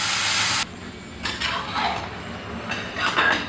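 Bottle gourd pieces are stirred with turmeric and salt in a metal pot for a Bihari Nahay Khay meal: a scraping clatter opens, then soft hissing scrapes and faint clinks follow at irregular intervals, up close.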